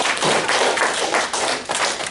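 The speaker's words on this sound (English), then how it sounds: "Give Michelle a huge round of applause." Steady applause from a class audience, dense and loud, continuing throughout without a break.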